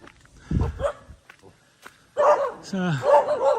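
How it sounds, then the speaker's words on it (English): A dog barks a few times nearby, short sharp calls with a howling, pitch-sliding bark near the end, over quiet background. "Here we got some dogs. So they always bark at us."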